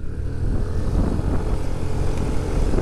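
A Suzuki Burgman Street 125 EX scooter's engine drones steadily up close, a low, rough, continuous rumble as the throttle is closed and opened again while riding.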